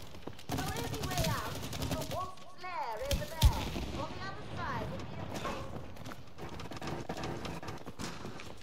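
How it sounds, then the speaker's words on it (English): Shots fired at the ground in the co-op video game It Takes Two, a run of sharp, punchy game impacts with one louder hit, heard under steady chatty voices. "What if we shoot the ground?"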